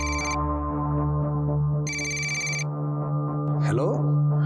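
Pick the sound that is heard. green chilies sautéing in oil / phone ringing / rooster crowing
phone ringing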